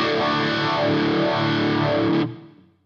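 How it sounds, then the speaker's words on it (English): An electric guitar plays through an orange phaser effect on a HeadRush unit, producing a loud, sustained, swirling tone that rings for a couple of seconds and then cuts off abruptly. "Let's go the orange phaser."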